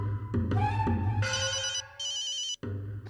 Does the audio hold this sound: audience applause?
no